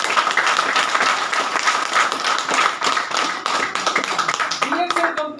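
Loud, sustained clapping from an audience at a DXN company gathering in Ranchi, Jharkhand, a dense wash of many hands filling the room without pause, with chatter mixed in near the end.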